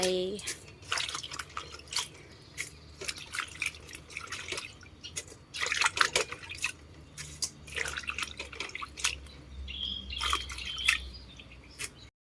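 Water drips and trickles from washed edible insects draining in a kitchen strainer, with irregular wet spatters and splashes close by and someone talking over it.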